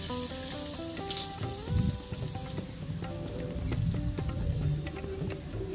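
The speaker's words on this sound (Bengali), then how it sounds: "এবার যে কেটে রাখা পেঁয়াজগুলো আছে সেটা আমি এর মধ্যে দিয়ে দেব।" Chopped onions hit hot oil with dried red chillies in a kadai, bursting into a loud, close crackling sizzle that keeps going steadily over music playing in the background, with no talking.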